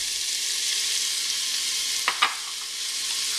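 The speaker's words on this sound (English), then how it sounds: "You want to cook the onions until translucent and the oil starts separating from them." Onions frying with salt in hot oil give a steady, close sizzle throughout, with two short stirring scrapes in the middle and no talking.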